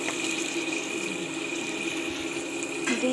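Water pours into a pan of rohu fish curry in a steady, continuous close stream, with a faint hum underneath and no speech.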